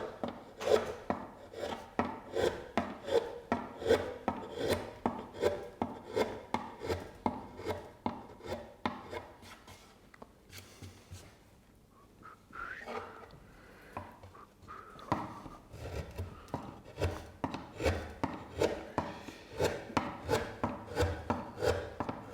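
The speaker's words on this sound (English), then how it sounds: "So we first cut the inside, so here we still have to do something. We have our 3 chisels." Chisels carving out the inside of a wooden instrument top with Montagnana-style fluting, giving a long run of sharp, rhythmic cutting strokes, close and fairly steady, with a brief quieter pause midway before the strokes resume.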